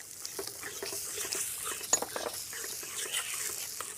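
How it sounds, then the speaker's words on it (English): Yoghurt being stirred into a mutton curry spiced with red chilli powder, a spoon scraping and clinking in the pot over a soft sizzle, close and fairly quiet with no talking. "Then we stir in some yoghurt."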